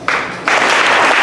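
A conference audience breaks into loud, dense applause nearby, a brief start that swells into full, sustained clapping from the whole room.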